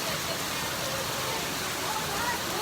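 Steady rain falls in Ghana, a dense, continuous hiss of heavy rainfall close by with no clear pauses.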